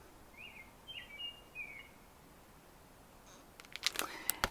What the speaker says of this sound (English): That robin is really singing.